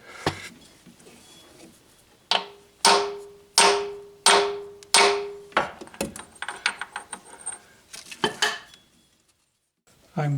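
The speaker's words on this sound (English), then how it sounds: "tap our seal into place. The best way to get this in there is to have a big socket that will fit inside." An axle seal on a 1994 Buick Century front axle is tapped into place with a big socket and a drift: about six loud, evenly spaced metallic knocks ring out, then a quicker flurry of lighter taps.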